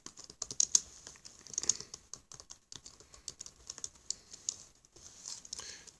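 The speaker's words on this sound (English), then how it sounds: "So if I can type okay with one hand." Rapid one-handed typing on a computer keyboard, close and fairly quiet, with an uneven patter of key clicks that speeds up and pauses across the stretch.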